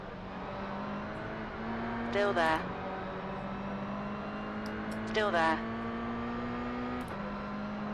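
Race cars in the iRacing simulator hold a steady engine drone while others pass close alongside, with two brief rising whooshes and a short click, under a voice speaking.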